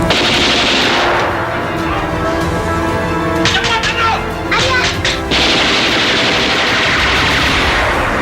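Loud gunfire in an Indonesian film about the G30S/PKI events, during an armed raid on General Nasution's house: dense automatic bursts and shots, then a brief lull with scattered cracks before heavy firing resumes, with voices mixed in.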